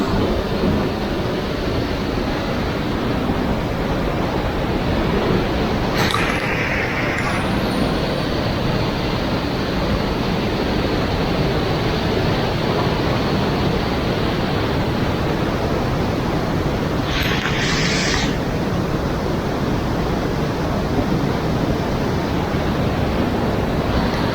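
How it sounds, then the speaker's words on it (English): Raging river torrent roaring through Lydford Gorge in West Devon, a loud, steady rush of white water filling the whole clip without a break, heard up close from a bridge. "more beautiful raging torrent"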